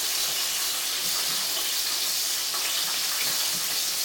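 Steady, even sizzling of chicken livers frying in a pan, a continuous soft hiss with no voices.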